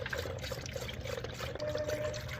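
Coolant is poured into the reservoir of a 2016–2019 Chevy Cruze, a soft, steady trickle and gurgle of liquid that runs continuously and stays fairly quiet.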